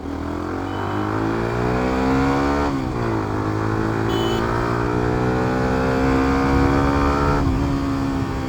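A motorcycle engine revs up and down repeatedly, its pitch rising and dropping with gear shifts, loud and close throughout.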